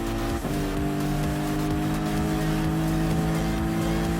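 Steady, loud race car engine drone from a German Group 4 race car and surrounding cars in the Gran Turismo Sport racing game, holding a sustained high whine throughout with a brief dip near the start.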